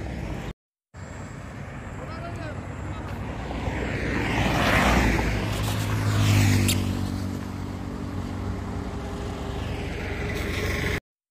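A vehicle approaches along a road and passes close by, its engine and tyre noise swelling to a loud peak with a pitch sweep before fading away, over steady background rumble.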